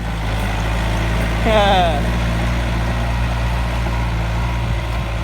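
A Yanmar 45 hp farm tractor, the kind used for ploughing and building paddy-field levees, runs with a steady, low engine drone. The rumble holds constant throughout, with a brief higher-pitched whine partway through.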